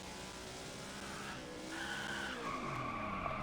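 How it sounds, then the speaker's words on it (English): A race car in the video game NASCAR Rivals drifts through a road course, tires squealing in a long sustained skid over a steady engine drone, fairly quiet and without talk. "I'm not supposed to be drifting."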